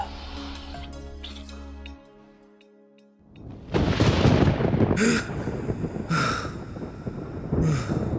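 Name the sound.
thunder crack sound effect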